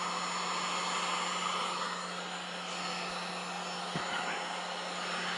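A heat tool blows hot air to melt and soften clay, giving a steady, close hiss of rushing air that holds evenly throughout, with one brief knock near the end.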